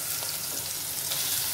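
Ground masala paste sizzles and fries steadily with browned onions in a hot pan, a dense continuous crackle heard close up with no talking.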